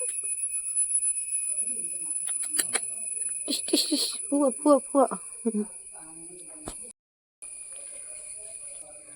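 Crickets chirp outdoors in a steady, high, continuous drone that runs through the whole stretch, with voices and scattered nearby noises over it partway through.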